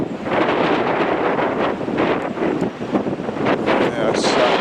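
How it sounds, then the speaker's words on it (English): Strong wind buffets the microphone at a harbour on a freezing day, a dense continuous roar with gusty swells throughout, close and loud, with someone speaking faintly beneath it. "Copping the wind a bit here this way."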